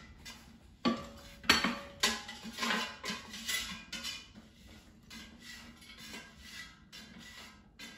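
Utensils clink and scrape against a plate and dish as air-fried diced potatoes with peppers and onions are moved across, producing a few sharp metallic taps followed by softer scraping and rattling at close range and low level.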